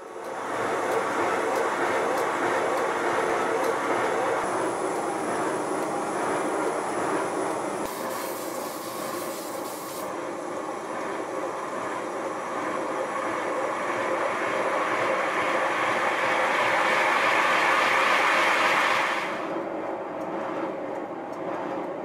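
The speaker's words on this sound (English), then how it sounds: "Here's an extract from the first steam test of my Stirling Single." A model live steam Stirling Single locomotive fired by a gas burner in its firebox runs on a first steam test, giving a steady, loud broadband hiss and rumble that holds throughout, with a brighter rushing burst midway.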